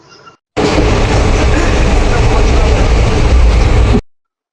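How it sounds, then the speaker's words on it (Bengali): A loud, steady roar of the Teesta Torsha Express running at high speed, dense rumbling rail noise that starts abruptly after a short quiet moment and cuts off sharply. "ট্রেনের ম্যাক্সিমাম স্পিড মোটামুটি 109-10 কিলোমিটার উঠছিল।"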